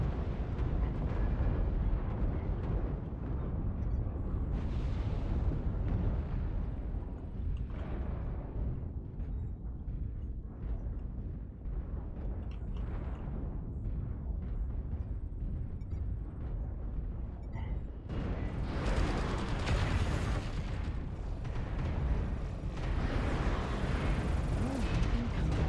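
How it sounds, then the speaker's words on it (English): Airstrike missile explosions in a Gundam video game, a long rumbling sequence of heavy booms and rolling blasts, with a louder roaring surge near the end, continuous and dense. "I think we got airstrike coming in."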